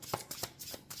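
Several quick papery riffles of cards in short bursts, close and fairly quiet, with brief pauses between them.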